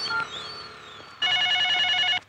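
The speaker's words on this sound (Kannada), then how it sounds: "ಯಾರ್ದಪ್ಪ ಫೋನು?" A telephone rings in a quiet room, with a faint tone first and then one loud, close burst of trilling bell lasting about a second.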